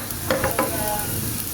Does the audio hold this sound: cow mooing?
no